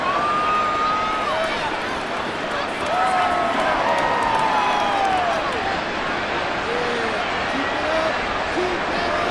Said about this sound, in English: Well, this crowd into it now.